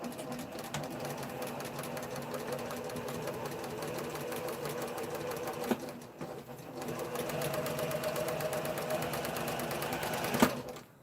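A sewing machine stitches fabric for a no-touch face mask, its steady rapid needle hum running loud and continuous, briefly pausing midway before resuming at full speed.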